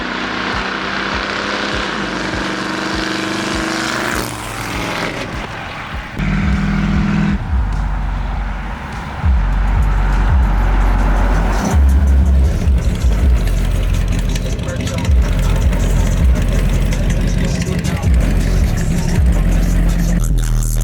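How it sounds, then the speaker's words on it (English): A throaty 401 cubic inch V8 engine in an old donk car rumbles and roars as the car drives and accelerates, loud and close, with no talking. "An old 401 cubic inch V8. They sound pretty good."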